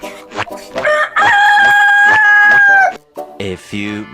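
A backyard rooster crows loudly and close by in one long drawn-out call, with brief clucking-like sounds around it.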